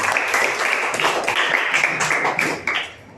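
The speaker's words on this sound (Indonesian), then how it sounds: "Kita beri tepuk tangan buat Gisela." A classroom of children claps for a classmate after her lesson answer, a brisk burst of small-handed clapping that fades out quickly at the end.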